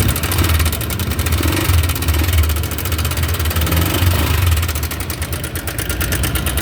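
Noisy Honda Click scooter engine idling close by, a steady buzzing rattle with a constant loud drone and no talk.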